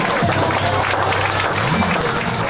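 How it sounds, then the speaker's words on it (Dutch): Applause at a school book-week fashion show in Oostburg for a girl and her grandmother, a loud, close wash of clapping with a voice and background sound running beneath it. "Applaus voor Carmen en oma."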